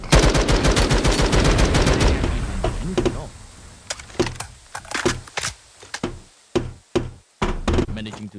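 Gunfire in the MATR1X FIRE video game during a competitive match, a dense sustained burst of rapid automatic shots followed by scattered separate shots and short bursts, loud and close.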